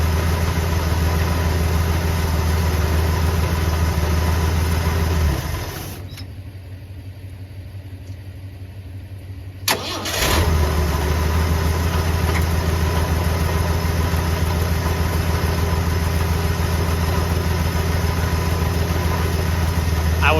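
Ford F100 truck engine idling steadily and loudly, cutting out for a few seconds midway, then picking back up to a continuous low rumble.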